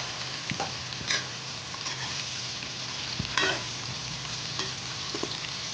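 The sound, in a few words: frying thinly sliced jackfruit pieces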